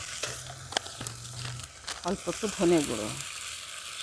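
Salt, turmeric, cumin and coriander powders sizzle together in a pan for a pumpkin kofta curry, a soft steady frying hiss running beneath a voice talking close by.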